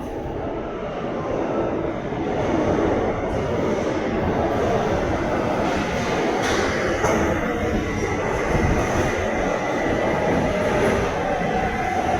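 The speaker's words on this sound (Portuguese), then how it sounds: "na hora que o metrô tá chegando?" A metro train rushes in loud and close, a continuous roaring rumble of wheels on rails with faint high squeals, holding steady throughout.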